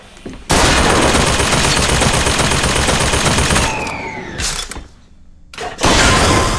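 Loud, sustained automatic carbine fire in the video game Bioshock Infinite, a dense rapid burst lasting about three seconds, then a mechanical reload clatter and a second burst at the end.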